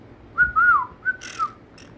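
A pet conure parrot whistles a few short, clear, sliding notes close by, with brief chirps between them and no talking.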